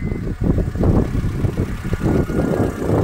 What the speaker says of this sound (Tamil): ஸ்டார்ட் பண்ணுறேன், வண்டி பெர்ஃபெக்டாக ஸ்டார்ட் ஆகுது